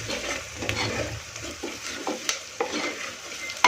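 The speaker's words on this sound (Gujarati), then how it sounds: "હલાવી દઈશું" Spiced green moong dal curry is stirred in a pan with a spoon, giving wet scraping and soft knocks over a steady sizzle, close and moderately loud throughout.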